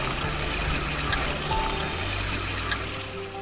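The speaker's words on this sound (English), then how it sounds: "is a place to collect water next to the Black Tiger Spring" Spring water flows steadily at a collection point beside Black Tiger Spring in Jinan, a continuous close splashing rush with a low hum beneath and no voices.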